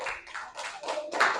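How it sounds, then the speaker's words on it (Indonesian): Classroom clapping as students applaud a group about to present, a short patter of hand claps that swells near the end with no talking over it. "Tepuk tangan untuk kelompok ikan hiu."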